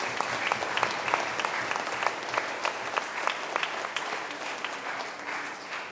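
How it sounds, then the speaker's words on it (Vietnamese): Congregation applauding the nativity tableau group at a Vietnamese-language Holy Mass, a warm sustained round of clapping with distinct individual claps standing out, fairly even and moderately distant throughout. "Chúng ta là một tràng pháo tay cảm ơn đội Hoạt Cảnh"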